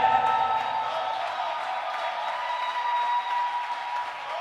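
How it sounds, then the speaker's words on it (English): Church congregation at a service in Orlando clapping to welcome a visitor, a steady, dense wash of applause that stays loud and even throughout with no clear pauses. "Let's clap."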